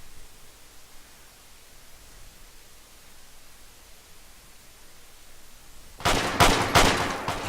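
Gunfire in an online shooter game bursts in at the end, a loud cluster of several rapid shots following a long stretch of quiet low background hiss.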